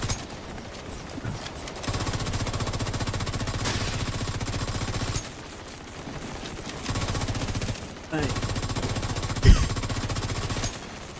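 Sustained bursts of rapid automatic gunfire in a video game raid, players shooting down adds, loud and continuous with brief pauses between volleys and a sharp single shot near the end.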